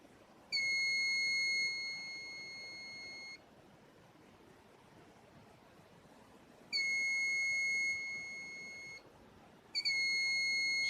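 A multimeter emits steady, high electronic tones while a shorted capacitor on a Xiaomi Redmi 8A phone board is tested, with three separate beeps of a few seconds each against quiet background noise.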